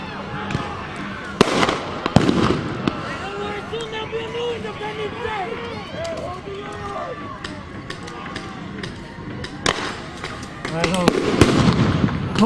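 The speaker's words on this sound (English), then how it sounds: "Like some firecrackers being shot at the cops." Firecrackers set off toward police clearing a street protest crackle as several sharp, loud bangs spread across the clip, over a steady background of crowd noise and voices.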